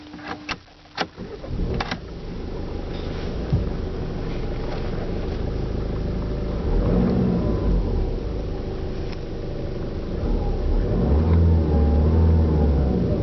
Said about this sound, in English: So let's see how the Passat sounds.